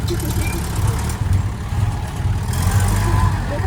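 A farm tractor's engine runs loud and steady with a low rumble, while a bogged-down pickup truck is pulled out of the mud, and people talk over it.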